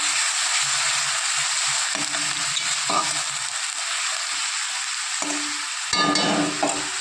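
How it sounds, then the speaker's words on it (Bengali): Ginger, garlic, green chili and onion paste sauté on low heat for doi katla, with a continuous soft sizzle and intermittent spoon scrapes and stirs against the pan. "হালকা আঁচে ভালো করে কষিয়ে নেব।"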